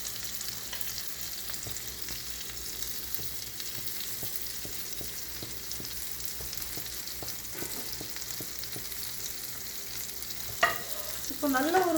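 Pineapple slices frying in butter on a hot tava over a large burner, a steady close sizzle with soft stirring scrapes, then a sharp clatter and brief squeaky sounds near the end.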